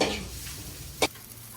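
A spoon stirring food in a hot pan while it sizzles and fries, with one sharp scrape of the utensil against the pan partway through, close and steady, with no talking.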